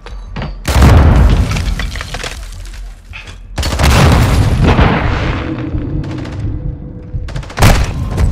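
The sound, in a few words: grenade explosion in video game Call of Duty: Modern Warfare II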